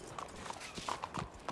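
A horse's hooves clip-clop in a quick, uneven rhythm of sharp knocks, faint and close, over low background noise.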